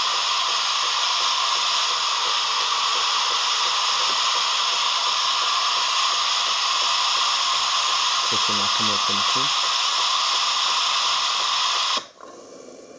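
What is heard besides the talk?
DeLonghi Gran Dama coffee machine steaming milk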